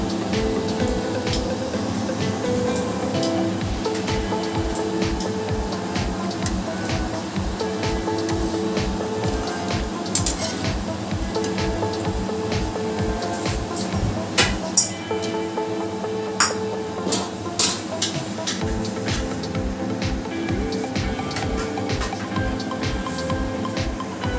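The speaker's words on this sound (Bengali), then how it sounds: "এইভাবে দেখুন লাল লাল করে ভেজে নিচ্ছি।" Urad dal kachori deep-frying in hot oil, a steady dense sizzle and bubbling that runs throughout with faint pops and a low background hum.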